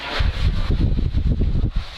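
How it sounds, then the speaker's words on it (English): Gusty wind buffets the microphone at an outdoor high school football final, a steady low roar with rising and falling surges over about two seconds, no voices. "It's getting windy."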